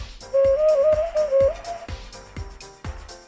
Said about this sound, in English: So it's a whistle with holes